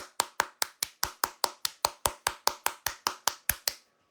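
Crisp handclaps at a Cleveland Guardians baseball game, about seventeen sharp claps in an even, quick rhythm, close and clear with no talk over them.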